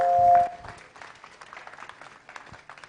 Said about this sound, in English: Let's add some more claps.